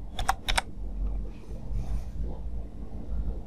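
Quick keystrokes on a computer keyboard type a password in two short clusters at the very start. Only faint room hum follows, with no voices.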